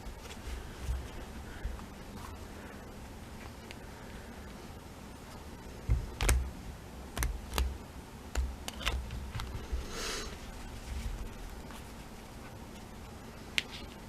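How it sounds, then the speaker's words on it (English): A deck of miniature tarot cards is shuffled by hand in a quiet room, giving a series of soft irregular snaps and riffles, with a cluster of crisp card slaps partway through and faint rustling in between. "Takes me a little while to shuffle."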